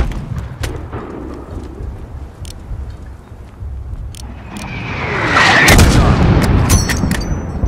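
Enemy soldiers fire on the player in Call of Duty: Modern Warfare: sharp, scattered single shots crack close by before a louder rumbling blast swells and more shots follow.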